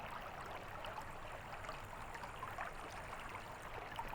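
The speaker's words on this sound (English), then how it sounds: "You can hear the water flowing over the stones" River water flows over stones at a riverside, a soft continuous bubbling and rushing that stays steady and fairly quiet throughout, with faint droplet splashes and no voices.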